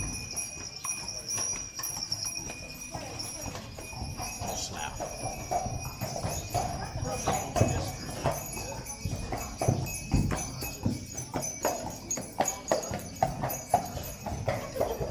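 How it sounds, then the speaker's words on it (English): Horse and cart clip-clopping along a street in the old walled city of Mdina, Malta, a steady nearby hoof rhythm with wheel rumble under scattered voices. "you wouldn't get a horse and cart going from Milton Keynes"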